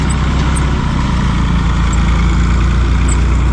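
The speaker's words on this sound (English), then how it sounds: "Listen how good that thing still runs though. I think he said it's 40 years old." The engine of a 40-year-old tractor runs steadily, a loud, continuous low rumble with an even idle throb, close by and uninterrupted for the whole stretch.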